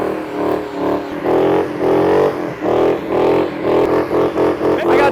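A Ford Mustang at a large Mustang car show does a burnout, its engine revving hard in a rapid series of loud surging pulses, close and dominant, with the repeated bursts quickening toward the end.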